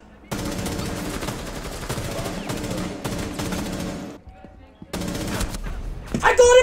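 Rapid automatic gunfire in a first-person video game shooter, loud and sustained bursts over several seconds, a brief lull, then more firing with a player's voice coming in near the end.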